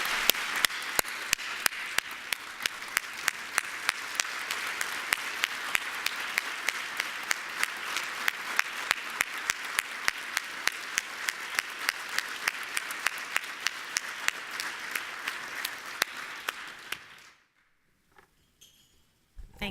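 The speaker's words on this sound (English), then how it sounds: "can we please have a round of applause for Mr." A long round of applause at an armed services ceremony honoring a veteran, dense steady clapping from a large audience with a few sharper individual claps standing out, lasting about seventeen seconds before cutting off abruptly to near silence.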